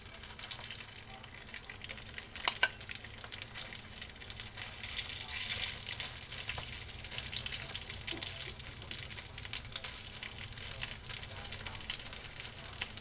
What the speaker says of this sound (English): Okay, so we are going to fry our potatoes.